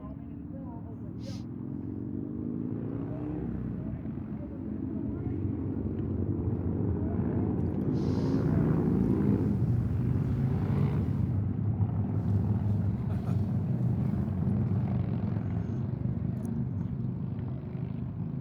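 A troop of motorbikes passes by at an outdoor bowls tournament, an engine roar that swells, peaks and stays steady at a middling distance, mixed with wind noise and broken by voices.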